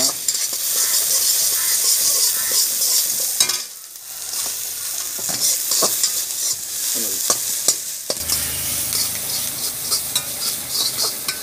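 Salt, turmeric and chilli powder are stirred into a frying pan, steady sizzling with repeated scraping strokes, loud and close, with a brief dip in the middle before the frying resumes; no one speaks.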